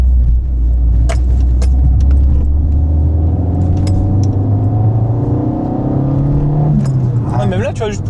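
A Fiat 500 Ferrari Dealers Edition engine, a small car, accelerates steadily from about 30 to 50 km/h with a loud, continuous low drone and rising tone heard from inside the cabin, with a brief rattle near the end.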